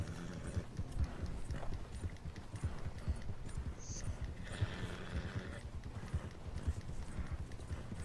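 Horse hooves clip-clop steadily in a western frontier video game set in North Ambarino, a continuous rhythmic trot close by with a brief bright tone partway through and low background hum.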